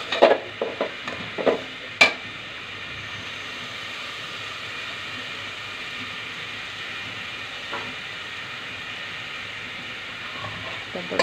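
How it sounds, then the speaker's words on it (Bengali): Spice paste frying in a pan for a pumpkin and prawn curry, with a few clattering knocks at first, then a steady, even sizzle that carries on alone. "মশলাটাকে ভেজে নেব।"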